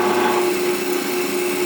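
Large belt sander shaping the belly cut on a Stratocaster-style guitar body, a loud steady whine with abrasive grinding held at close range throughout, no speech.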